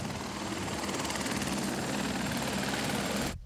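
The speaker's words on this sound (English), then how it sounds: "He goes by helicopter" A helicopter flies close by with a steady, loud rotor thrum and turbine whine that holds for over three seconds before cutting off abruptly.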